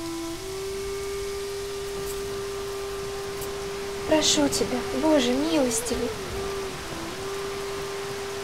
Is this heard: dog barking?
no